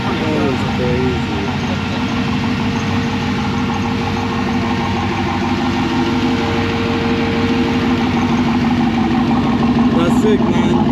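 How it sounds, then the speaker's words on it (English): Turbocharged Camaro police car idling loudly up close at a car meet, a steady deep rumble with a throbbing pulse, while people talk over it. "He took out one of the headlights and put a turbo."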